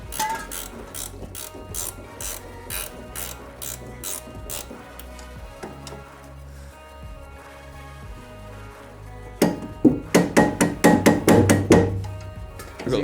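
A hand ratchet works a bolt loose during a coilover install on an NA Mazda MX-5 Miata, with loud, close clicking strokes in quick rhythmic bursts, a mid-clip lull, then a fast final run.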